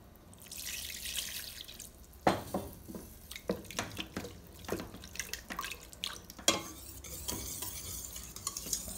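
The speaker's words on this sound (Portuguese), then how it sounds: "Só ir mexendo bem com a colher de pau, com fouet." A wooden spoon stirs a flour and milk sauce for a codfish lasagna, making quiet repeated scrapes and wet taps against the pot in an irregular rhythm over soft background hiss.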